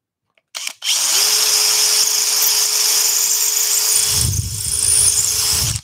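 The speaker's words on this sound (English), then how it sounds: "Let's get that drilled right the way through." A power drill bores through a wooden workpiece for a 3D puzzle box, a loud steady whine that starts abruptly and runs continuously, deepening into a heavier grinding rumble near the end as the bit breaks through.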